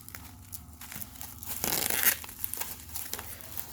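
Tape being torn and pulled while a trading-card package is wrapped for submission, a single loud ripping burst of about half a second amid lighter crinkling and handling noise.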